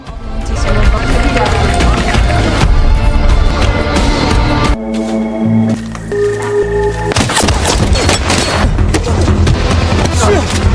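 Dense bursts of gunfire and booming impacts mixed with dramatic film music from a John Wick 4 scene, loud and continuous throughout.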